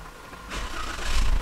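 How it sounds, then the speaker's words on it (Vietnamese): A Toyota Veloz car engine starts: a brief starter crank followed by the engine catching and rising into a low idle rumble, close by with no talk. "Giờ mình nổ máy lên cái xe này."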